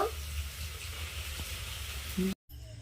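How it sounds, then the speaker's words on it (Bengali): Potato snacks frying in hot oil, a steady low sizzle and crackle running throughout, moderately close, with a brief cutout near the end. "এইভাবে আমি সবগুলো ভেজে নেব।"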